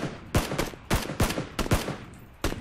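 Gunfire in the video game PUBG Battlegrounds: loud, sharp single shots crack out in an uneven rapid series of about seven reports, each with a short echoing tail.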